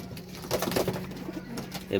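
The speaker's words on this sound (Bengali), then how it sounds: "এটা হচ্ছে দেশি কবুতর লাল বর্ডারের" Local red-bordered pigeons in a netted loft give soft, repeated cooing at close range, with faint background murmur throughout.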